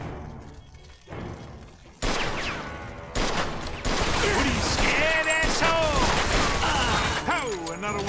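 Gunfire in the game Mafia II Definitive Edition, with loud, rapid bursts of shots and crashing impacts building into a sustained barrage, while voices talk and shout over it.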